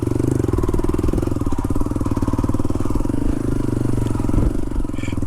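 A motorcycle engine chugs steadily up close on a rocky mountain trail on Mt. Tapulao, a loud continuous rumble with a rapid pulsing throb and some rattling clatter.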